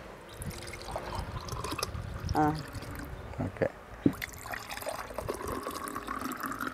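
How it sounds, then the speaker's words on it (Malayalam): Spiced Kerala buttermilk drink (moru vellam) is poured with a faint, brief liquid trickle and a few small splashes. A voice speaks softly nearby. "നമുക്ക് ഒഴിച്ച് കുടിച്ചു നോക്കാം."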